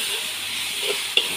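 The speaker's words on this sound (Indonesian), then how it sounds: "Macam ini ya, kita goreng ya." Pork large intestine with pineapple fries in a pan, a steady soft sizzle and hiss with light scraping as it is stirred, one sharper clink near the end.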